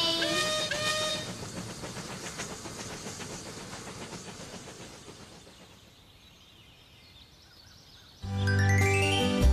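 A cartoon steam train pulls away with hissing steam and rhythmic chugging that fades into the distance, then a loud, sustained steam whistle blows near the end.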